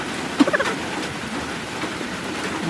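Rain falls steadily outdoors as a continuous, fairly loud hiss, with a few brief chirping calls near the start and no voices.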